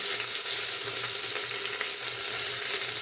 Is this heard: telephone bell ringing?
no